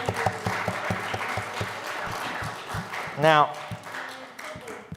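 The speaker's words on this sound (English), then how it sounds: "Round of applause, everyone." Congregation applause at a Shabbat evening service, scattered clapping in a room with a voice speaking briefly over it.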